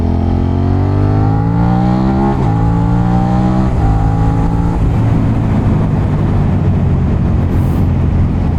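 A 2023 Suzuki SV650 motorcycle engine revs hard while riding, climbing in pitch through several quick gear changes before settling into a loud, steady drone up close, with no talking.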